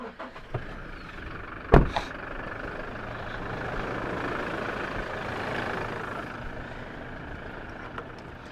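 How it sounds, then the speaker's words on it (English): Toyota Hilux engine starting with a sharp clunk, then a quiet, steady idle that holds for several seconds with a few small knocks. "we're going to start the engine up on the Hilux first"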